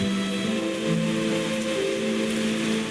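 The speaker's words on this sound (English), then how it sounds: "We could hear the sound of the rain outside" Steady rain pattering on a surface, with sustained low tonal notes of a game soundtrack underneath, continuous and even throughout.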